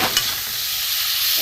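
Ground turmeric, grated ginger, cumin and coriander powder sautéing in a little oil for a thin katla fish curry with vegetables, a steady close sizzle with bright hiss throughout, no one talking.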